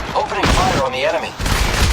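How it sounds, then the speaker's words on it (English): Rapid gunfire in the Apex Legends Mobile video game, a dense burst of shots mixed with battle effects and game voice lines, loud and continuous across the moment. "Opening fire on the enemy."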